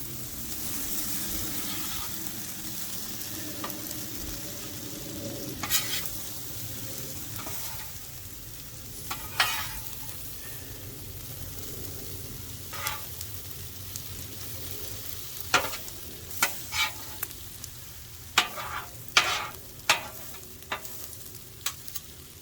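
Chicken wraps on a flat griddle give a soft, steady sizzle, with scattered scraping clicks from a spatula as they are turned, growing more frequent toward the end.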